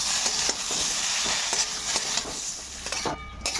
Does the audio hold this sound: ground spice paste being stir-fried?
yes